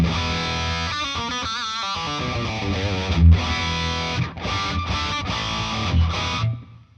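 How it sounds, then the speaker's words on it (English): Heavily distorted electric guitar playing a riff with bursts of chords, loud and buzzy, with short breaks before fading at the end. "if you hear, like, this distortion"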